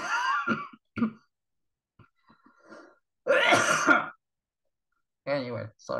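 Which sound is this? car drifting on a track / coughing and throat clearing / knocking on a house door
coughing and throat clearing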